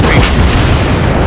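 Heavy big-caliber naval guns of the battleship West Virginia firing in World of Warships Blitz, a loud, dense booming blast filling the whole short burst.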